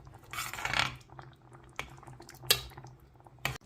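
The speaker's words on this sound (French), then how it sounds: "Et bien mélanger tout ceci." Bolognese sauce seasoned with pepper and paprika is stirred in a pan, giving soft scraping and sizzling with a few sharp clinks of the utensil against the pan, fairly quiet and close.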